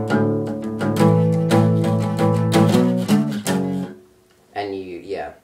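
A guitar plays a song's riff alone, a run of strummed chords with a short pause and a brief final phrase.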